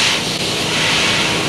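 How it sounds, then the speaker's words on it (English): A tractor's winch whines steadily pulling a burnt trailer, with a continuous mechanical drone and broad hiss, loud and close, without any talking. "I hear the winch whining as it is."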